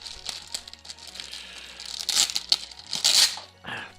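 A small plastic bag holding the stand and effect parts of a Revoltech Evangelion Evolution EVA 13 figure, crinkled and rustled close up in a few sharp, tearing bursts over about four seconds.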